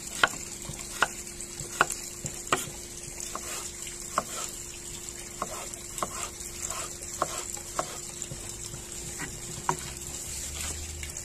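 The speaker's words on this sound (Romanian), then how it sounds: "tăiem așa ca pentru cartofi prăjiți și după aia cubulețe" Knife chopping potatoes into cubes on a board, a string of faint, sharp, evenly spaced taps over a quiet kitchen background.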